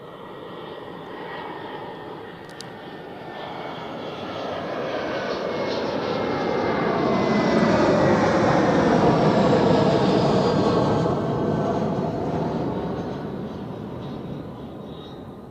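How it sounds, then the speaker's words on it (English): An Edelweiss Air Airbus A320 flown for Swiss, arriving from Mahon, Menorca, on landing at Zurich Airport, a loud sustained jet roar that swells to a peak midway and slowly fades as it passes. "Swiss A320 for Edelweiss Air from Mahon,"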